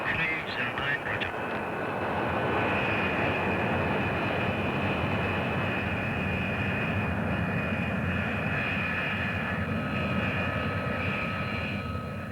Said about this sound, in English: Capable of operating from a woodland clearing, this revolutionary aircraft brings a new dimension to military tactics.